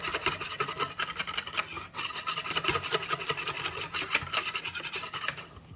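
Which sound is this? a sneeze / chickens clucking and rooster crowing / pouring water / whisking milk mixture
whisking milk mixture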